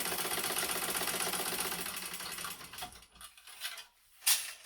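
A sewing machine runs in a fast continuous whir while stitching the side seam of a fabric clutch, then stops, followed by a few faint clicks and one sharp tap; no talking.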